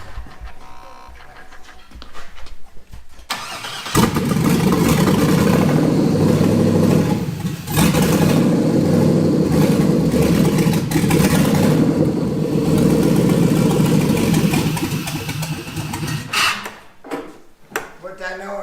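The engine of a 1960s Corvair off-road build starts after a few seconds of quiet and runs loud, with rough revving and a brief dip midway, then cuts out near the end while people talk around it.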